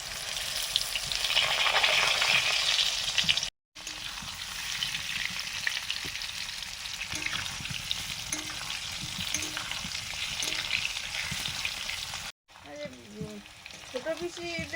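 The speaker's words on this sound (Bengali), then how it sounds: "আলুগুলো ভেজে নিচ্ছি।" Potatoes fry in hot oil with a steady, dense sizzle that continues throughout, broken by two brief cuts and a few light stirring clatters near the end.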